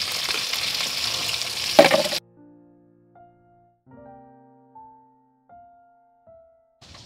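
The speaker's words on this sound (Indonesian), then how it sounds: "Tinggal goreng ikan asin, teman-teman." Salted fish (ikan asin) fries in a pan with a loud, close, crackling sizzle for about two seconds, then cuts abruptly to near silence broken only by soft, sparse tones.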